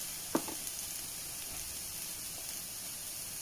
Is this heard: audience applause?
no